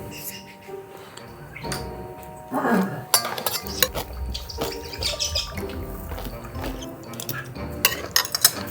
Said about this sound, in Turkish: Aynı kaşıkla dolduruyorum değil mi?